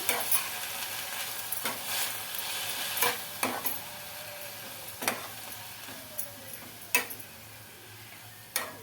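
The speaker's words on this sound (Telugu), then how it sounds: "ఇంత ఒకసారి ఇలా కలిపేసుకొని మూత పెట్టేసుకొని ఉడికించుకుందాం" Tender tamarind leaves cook in oil for a chutney, a soft steady sizzle broken by several sharp spoon clinks and scrapes against the pan at uneven intervals.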